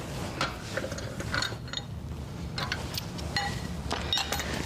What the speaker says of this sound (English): Now we're good to remove that last lug bolt here.